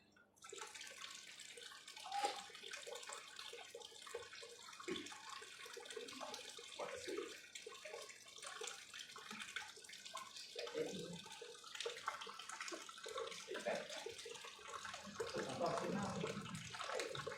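Tap water runs steadily into a sink or basin during an alkaline water product demonstration, a continuous splashing hiss with occasional drips and faint background voices.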